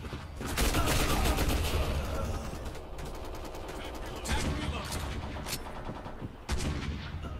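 A TYPE95 rifle fires in the video game Black Squad in short tap bursts, sharp repeated cracks with brief pauses and louder shots near the end.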